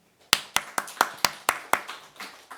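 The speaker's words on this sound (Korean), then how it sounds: "우리 주한이한테 박수." Eight slow, evenly spaced hand claps ring out in a church, crisp and close, each with a short decay, fading slightly toward the end, with no talk.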